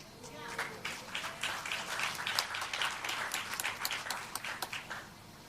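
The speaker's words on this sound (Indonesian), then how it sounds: "Saudara tepuk tangan buat gereja saudara, kayaknya lemes-lemes banget ya" A church congregation applauding in a hall, a steady wash of many hands clapping at moderate distance that builds and holds for several seconds.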